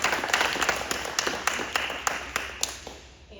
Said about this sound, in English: can we just have a round of applause for Gio?